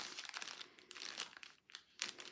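A paper Valentine's treat bag topper is folded by hand, with close, soft crinkling and crumpling rustles in uneven bursts and a brief pause in the middle.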